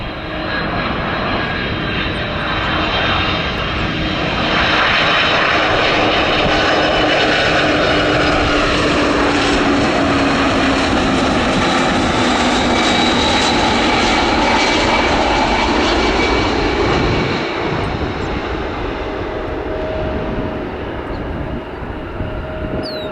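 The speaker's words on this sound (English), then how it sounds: "you can definitely tell that it's an old design, not only because of the small size and lack of winglets, but also because of the extremely unique engine noise" An old-design Airbus airliner with small size and no winglets roars at O'Hare International Airport, its loud jet engines rising and holding a steady whine with droning tones for over twenty seconds before fading slightly.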